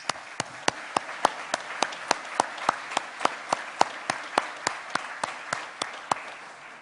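Visitors are welcomed at a meeting with steady, evenly spaced clapping, each sharp clap distinct in a regular rhythm, like one or a few people applauding at moderate loudness, with no talking.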